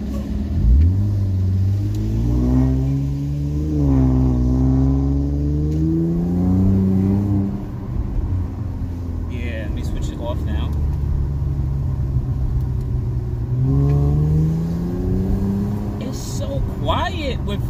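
Infiniti Q60 with a modified exhaust flap, driving with a deep rumbling exhaust that rises and falls with gear changes, heard from inside the cabin under intermittent speech.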